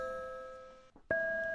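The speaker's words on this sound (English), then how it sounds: "Wait, ding dong!" A doorbell rings a sustained electronic tone, breaks off, then chimes again with a louder second note that rings on, clear and fairly close in a quiet room.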